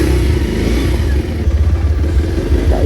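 A Pulsar motorcycle ride on a village road, the engine droning steadily and loud close by, with rumbling, slightly revving tones and rattling throughout.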